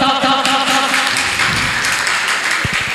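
An audience at a yoga and music stage program claps loudly as a child performer is called up, the dense clapping overlapping brief tonal music and a few louder individual claps near the end.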